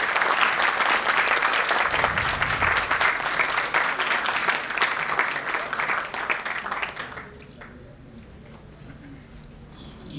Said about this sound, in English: Round of applause for IBS.